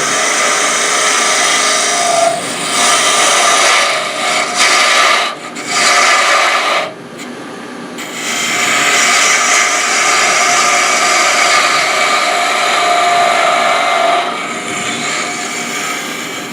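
Wood turning on a lathe with carbide scraper tools, a steady loud broadband rasping and scraping that runs almost continuously, with brief pauses as the tool lifts off the spinning workpiece.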